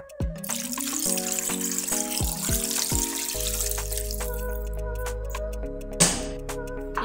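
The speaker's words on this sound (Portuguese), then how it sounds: "Agora vou acrescentar 1/2 litro de água." Half a litre of water pours into a blender jar holding cassava, a close, continuous trickling stream whose tone shifts as the jar fills, then stops and is followed by faint splashes.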